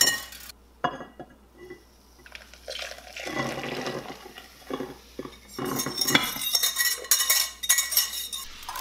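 A whisk clatters and scrapes inside a metal pot of eggnog on the stove, with irregular clinks and sloshing that grow busier and louder toward the end, with no voices.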